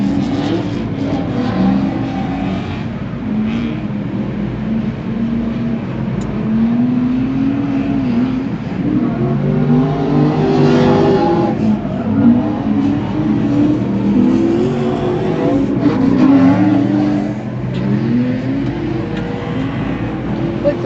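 A Pro Light class drift car's engine revs hard during a drift competition run at Ultimate Drifting Challenge, a throaty roar rising and falling in continuous bursts, heard from a distance over track ambience with no talk.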